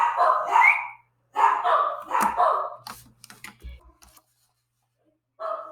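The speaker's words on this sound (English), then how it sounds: "my dog's still going crazy" A dog barks indoors in a few loud bursts near by, with a couple of soft knocks in between and a last short bark after a quiet gap.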